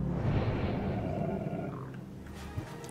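A creature in the video game Assassin's Creed Mirage gives a low, rumbling grunt that rolls on for a couple of seconds and then fades, close and moderately loud.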